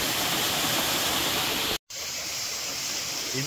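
Soormane waterfall near Kalasa roaring with a dense, steady rush of falling water, loud and close, broken by a brief cut of silence midway before the roar resumes.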